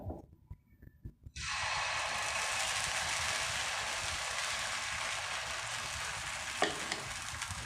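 Rice pav batter hits an oiled pan: after a few quiet knocks, a loud, dense frying sizzle bursts in and holds steady and close to the end.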